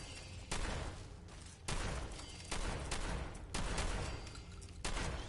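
Repeated heavy gun bursts in Fallout 4, five loud, sharp shots spaced roughly a second apart, each with a short echoing tail, close and without any talking.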